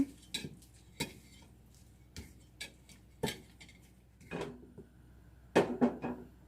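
Buckwheat pancake batter is beaten in a bowl with a utensil, giving irregular clinks and knocks against the side, some louder taps near the end, with quiet gaps between and no voices.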